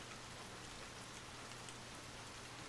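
Steady, even rainfall patters continuously in a soft, uniform hiss with no voices or other sounds.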